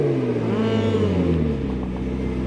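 A McLaren sports car engine revs loudly, its pitch sweeping and falling in a sustained throaty roar, close and unaccompanied by talk.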